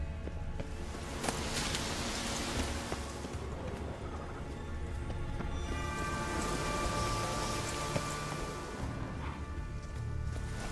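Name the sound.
rain in the video game The Witcher 3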